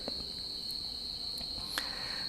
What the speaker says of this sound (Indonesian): Suara jangkriknya makin keras ya.